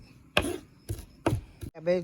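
A knife chops cabbage on a board: four sharp, crunchy strokes at an even pace, followed by a short voice.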